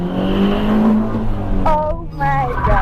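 Widebody BMW drift car drifting, its engine droning and rising in pitch with a sharp tire squeal breaking in partway through, loud and close alongside speech.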